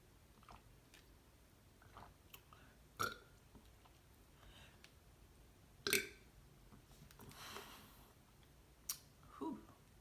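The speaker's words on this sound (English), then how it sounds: "Y'all should be happy that I just burped." During a filet mignon mukbang, a few short throaty burps and mouth clicks break up quiet chewing and eating sounds, close to the microphone and otherwise fairly hushed.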